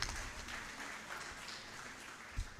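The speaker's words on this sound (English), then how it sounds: "Let's give an applause." Audience applause at a university convocation lecture and book launch, a steady faint wash of many hands clapping that holds evenly throughout, with one brief louder thump near the end.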